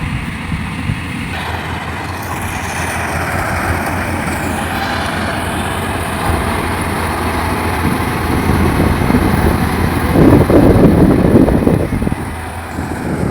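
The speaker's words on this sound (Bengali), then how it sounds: "মেশিনের মাধ্যমে হারভেস্ট হয়ে তারপরে এই খড়গুলো বেরোচ্ছে" A rice harvesting machine runs through a paddy field in Jyotishpur village, giving off a steady, loud engine drone and mechanical rattle that swells slightly toward the end.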